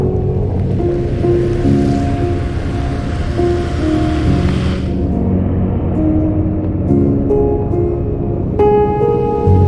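Floodwater rushes steadily into a drain along flooded Marcos Highway near a gas station, a loud continuous churning wash with engine hum and tonal vehicle sounds layered over it.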